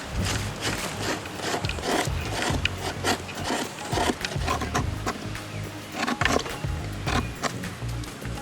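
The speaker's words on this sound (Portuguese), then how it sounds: "Agora vamos raspar" A knife blade scraping wood into fine shavings while camping outdoors: rapid, rhythmic rasping strokes, close and fairly loud, repeating steadily throughout with no talk.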